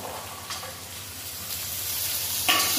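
Cashews, garlic, ginger, green chilli and garam masala fry with onion in a pan, giving a steady close sizzle with brief stirring scrapes.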